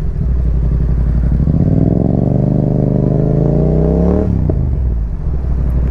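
An off-road motorcycle on a dirt road in Malaysia gives a loud, close engine drone that rises in pitch as it revs, then drops off abruptly, with wind buffeting throughout.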